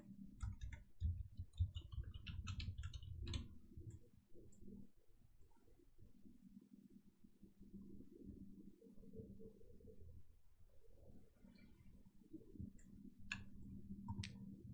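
Someone types on a keyboard into a Windows search box: faint, soft key clicks come in short bursts at the start and again near the end over a low background hum.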